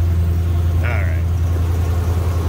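A 1973 Cadillac Eldorado convertible's engine runs at high idle after a cold start, a loud, steady low rumble that holds even from start to finish, with a brief higher-pitched sound partway through.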